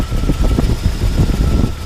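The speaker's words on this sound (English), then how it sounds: "you just hear the engine. Here how it's smoothed out when I plugged it in." Jeep Wrangler engine with a misfiring cylinder and head gasket failure idles steadily, a continuous close low rumble with a slightly uneven pulse and no talking.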